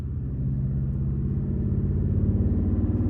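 V8 car accelerating in traffic: a low, throaty engine rumble that swells gradually and stays close and steady for a few seconds, with no talking.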